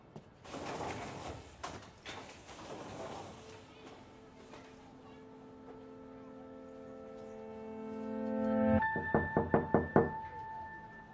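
Several sharp, loud knocks on a door land close together near the end, after a quieter stretch of rustling and a steady low hum.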